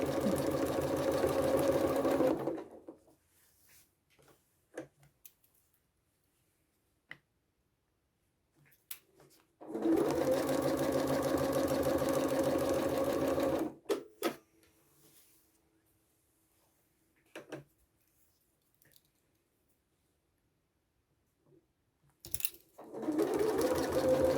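A sewing machine stitches a ruler-work placemat in three bursts of steady, close whirring, separated by quiet pauses with faint handling clicks.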